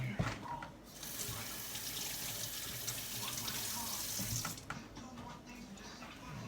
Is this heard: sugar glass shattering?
no